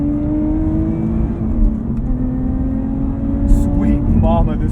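A 2020 Lotus Evora GT sports car pulls hard with a loud, steady engine drone from inside the cabin, its pitch climbing slightly as it accelerates, and a voice comes in briefly near the end.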